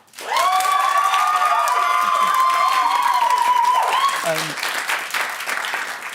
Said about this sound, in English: So can I get a massive round of applause for Amy?